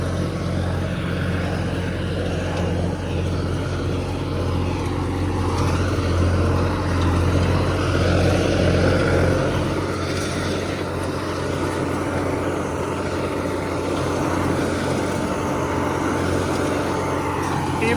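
A Sonalika 35 tractor pulls an 8-foot superseeder through dry soil, its engine droning loudly and steadily with a deep rumble and churning mechanical noise, close and unbroken.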